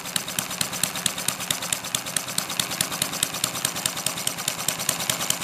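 A model flathead internal combustion engine with a muffler runs steadily up close, its rapid, even exhaust pulses forming a continuous mechanical chatter that holds level throughout.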